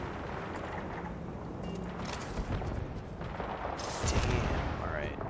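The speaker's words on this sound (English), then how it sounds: "they're shooting at the critter" Gunfire and heavy weapon blasts from the video game Starfield keep up a dense, continuous barrage, with louder booming bursts near the end, all under a constant background roar.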